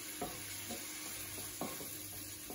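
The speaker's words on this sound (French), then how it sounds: "Vous y ajoutez de l'oignon que vous ferez suer." Chopped onion sweating in olive oil in a saucepan, a soft steady sizzle with a few faint stirring scrapes, close and quiet throughout.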